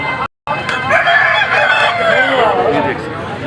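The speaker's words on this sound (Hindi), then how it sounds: "मुर्गे जो है यहाँ पर लड़ रहे हैं।" Roosters crow loudly and cluck while fighting at Lalukhet bird market, with hoarse calls close by over a busy crowd murmur. A brief dropout breaks the sound early on.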